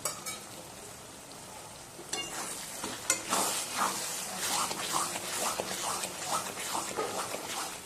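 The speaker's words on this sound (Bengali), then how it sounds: "মশলাটা আমি কষিয়ে নেব" Spice masala of turmeric and chilli powder fries in oil with a quiet, close sizzle, broken by a series of scraping stirs that grow busier after a short pause.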